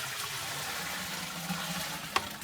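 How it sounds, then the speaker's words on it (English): About two gallons of water pour into a modified Grainfather brewing vessel, a steady rushing splash with one brief louder slosh near the end. "And then I put about 2 gallons of water in."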